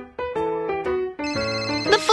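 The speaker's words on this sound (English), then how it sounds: "The phone's ringing. Let's see who's calling." A cartoon telephone rings in a children's police pretend-play show, a bright electronic ringtone sounding in repeated short bursts, loud and close, with a melodic rising flourish at the end.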